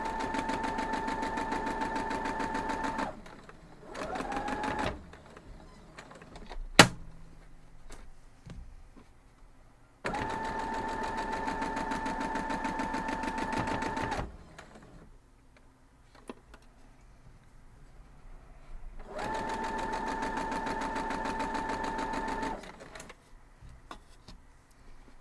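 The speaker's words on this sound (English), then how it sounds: "So let's go sew this one up" A domestic sewing machine stitching quilt blocks runs in three steady, whirring bursts of rapid needle clatter, separated by quiet gaps with small handling clicks and a sharp tap.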